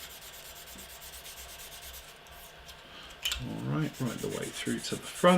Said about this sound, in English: we just come in here, got a medium sander. Again, letting the sander do the work, not pushing down too heavy